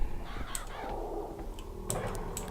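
Crows caw a few times in the Bioshock Infinite video game, harsh calls at moderate distance over a steady ambient hum.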